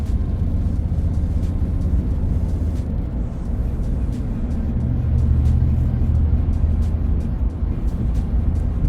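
A car cruises east on highway 522, with a steady, loud road and tire roar and a deep engine drone that runs unbroken from start to finish.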